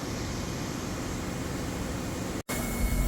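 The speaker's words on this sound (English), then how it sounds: "And here we have the 3 diesel generators," Three diesel generators aboard a nearly new cargo ship, the MV Lignum Nexus, roar steadily in the engine room as a dense, unbroken machinery drone, with one abrupt split-second dropout near the end.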